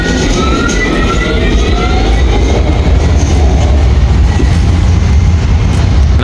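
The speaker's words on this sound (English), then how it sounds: "We have to take this tram number 9" Tram number 9 running through Turin, a loud, steady rumble of wheels on rails with faint squeals and rattles and no voices.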